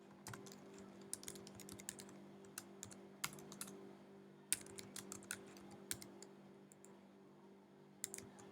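Typing on a computer keyboard during website design work, a quiet, irregular run of close key clicks with short pauses between bursts.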